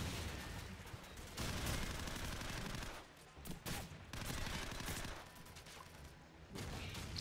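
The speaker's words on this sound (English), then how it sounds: "is this a shotgun? Yeah, it's gotta be. The way it reloads." Gunfire crackles through a Call of Duty 4: Modern Warfare match in fast, dense bursts, fairly faint, with short gaps between volleys and no talk.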